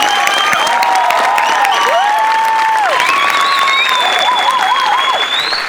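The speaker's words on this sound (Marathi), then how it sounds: "जोरदार टाळ्या" A studio audience at a Marathi comedy show bursts into loud, continuous applause and cheering, with shrill whistle-like calls rising over the steady clapping throughout.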